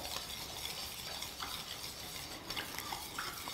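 Corn pasta salad ingredients mixed together in a bowl, with lime juice and cottage cheese, giving a steady soft wet stirring and scraping that runs the whole time with a few light clinks, no talking.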